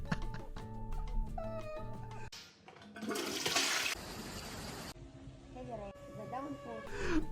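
A jail cell toilet clogged with balled-up toilet paper is flushed, a loud watery rush standing out amid steady music and talking voices.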